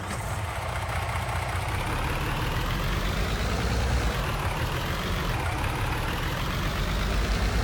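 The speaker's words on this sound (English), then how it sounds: "Let's go get a tractor." Tractor engine in Farming Simulator 19 running steadily with a deep, continuous low rumble and a constant drone throughout, loud and alone with no talking.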